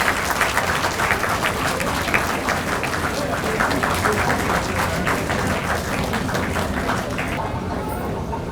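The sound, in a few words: audience applause at a conference ceremony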